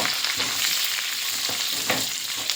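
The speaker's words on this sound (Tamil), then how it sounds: "கருவேப்பிலை போட்டு பொறிஞ்சதும் மிளகாய் உங்கள் காரத்துக்கு தேவையான மிளகாய் போட்டுக்கோங்க" Curry leaves and chillies sizzle and crackle steadily in hot oil while a dish of ridge gourd masiyal is being cooked, with repeated sharp pops over a constant frying hiss and no talking.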